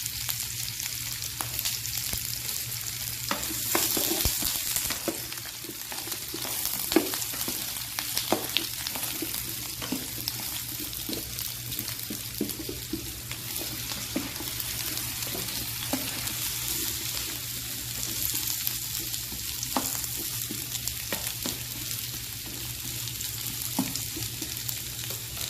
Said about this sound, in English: I'm going to throw in my apples and my onions together.